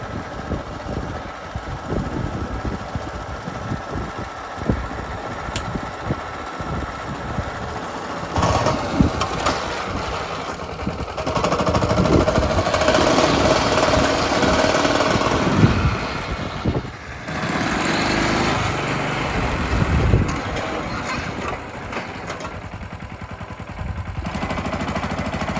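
A bulldozer engine runs steadily throughout, a continuous rumbling drone with loudness swelling in the middle section and some rattling, mechanical clatter; no speech is heard.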